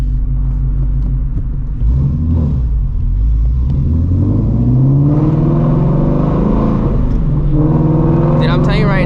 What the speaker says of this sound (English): the car sounds nasty at night